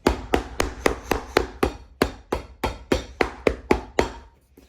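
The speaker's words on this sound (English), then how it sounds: "So we'll go ahead and hammer this." A hammer strikes leather filler on a boot in a steady series of about a dozen sharp close taps, evenly paced and alone.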